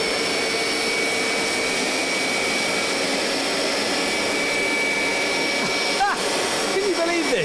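A Vax Dual V upright carpet washer reversing over carpet, its suction motor droning steadily and loudly throughout while liquid is drawn up, with a few brief squeaks near the end.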